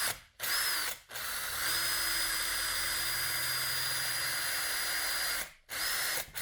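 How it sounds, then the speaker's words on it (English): Power drill whirring at high speed in a few bursts, drilling a hole in a Land Rover Defender L663 rear quarter panel plastic trim, a long continuous run in the middle, brief pauses as the trigger releases and restarts. "if I drill a hole here and down here"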